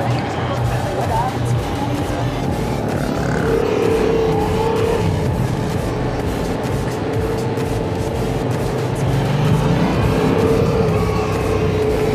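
Yamaha MT-07 (FZ-07) motorcycle on a test ride, with steady engine drone and wind rush throughout, rising in pitch as it accelerates, under constant loud road noise.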